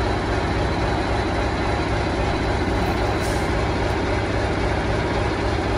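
Class 56 diesel locomotive engine (56006) running steadily at close range, a loud continuous heavy rumble with a dense mechanical drone and no break in level throughout.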